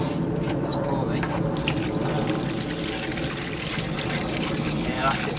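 Water pours into a hole dug in the middle of a mortar mix for bricklaying, a steady close splashing wash that runs for several seconds with a voice talking over it.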